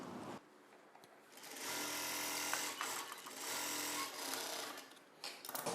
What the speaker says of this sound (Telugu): చివరి వరకు కుట్టు వేసేసుకోవాలి.